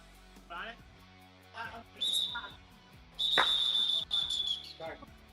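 Referee's whistle during a hockey game played in a gym, several sharp shrill blasts, one long and loud, between bursts of people talking.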